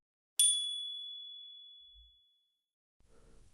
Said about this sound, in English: A bell echoes in the distance.